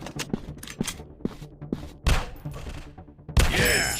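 Gunfire in a first-person shooter video game: a run of rapid, close shots followed by two heavier bursts, all loud and punchy with no talking.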